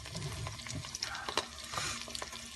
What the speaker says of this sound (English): Now, the butter is sizzling.